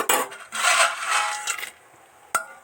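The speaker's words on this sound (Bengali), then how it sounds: "এবার এর মধ্যে বড়িটা দিয়ে ঢাকা দিয়ে দেব" Lentil dumplings (bori) are dropped into a pot of boiling water for telakucha greens, with close scraping and clinking of utensils against the pot, ending in a sharp clank as the lid goes on.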